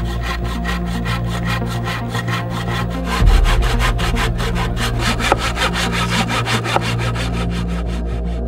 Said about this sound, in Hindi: आरी से आप करते रहोगे आपके हाथ टूट जाएंगे